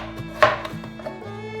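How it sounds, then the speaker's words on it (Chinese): A knife slicing a peeled carrot into thin strips on a cutting board, a quick sharp chop followed by a few soft taps, close and quiet with no voices. "把红萝卜切丝"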